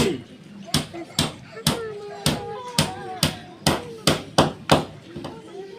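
Hammer blows drive the last nails into a coffin at a burial, about a dozen loud, sharp strikes in an uneven rhythm, with voices murmuring underneath.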